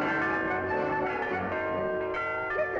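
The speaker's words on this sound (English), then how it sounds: "the bells, the bells" In an old Woody Woodpecker cartoon, bells ring continuously with sustained, layered tones, a steady clangor that fills the whole stretch with no voices.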